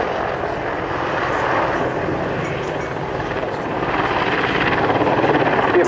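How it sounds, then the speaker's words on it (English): An Apache helicopter performs a pedal turn at an air display, its rotor and engine roar heard steadily and loudly throughout, swelling slightly toward the end. "Now the Apache with a 90-degree nose down and left-hand turn, allowing it to set up towards the right for a pedal turn"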